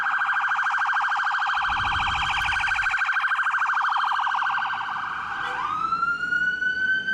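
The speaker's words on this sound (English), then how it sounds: "They had a cool siren." An Irish ambulance siren wails loud and close, holding a steady high warbling tone for several seconds before sliding down into a lower sustained pitch, with a brief low rumble of passing traffic partway through.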